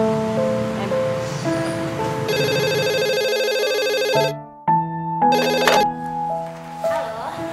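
An office telephone rings after a call to its number, a melodic electronic ringtone pattern of repeated tonal phrases with brief pauses, loud and near over faint background noise.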